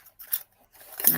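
Scissors snip and clatter a few times in quick, close handling, with short crisp metallic bursts among the sewing notions and quiet gaps between them.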